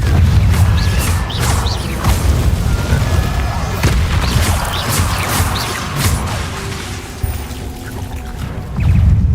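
A Confringo blasting curse in Hogwarts Legacy: loud, dense booming explosions and crackling magical blasts layered over a rumbling game soundtrack, with fighting noise throughout and a speaking voice mixed in.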